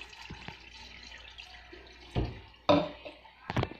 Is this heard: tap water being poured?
yes